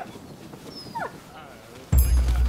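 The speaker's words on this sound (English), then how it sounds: "Doggo? Come here." A dog in the video game Rise of the Ronin gives a brief, soft whimper over quiet game ambience, followed by a sudden loud low rumble near the end.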